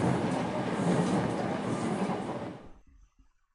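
A train pulls into its final stop in the Higurashi game, a steady loud rumble of rolling wheels and carriage noise that fades and dies out, leaving near silence at the end.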